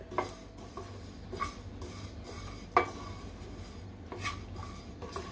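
Whole spices dry-roast in a pan as a spoon stirs and scrapes them, making sparse, sharp metallic clinks over a faint background hiss, close and quiet.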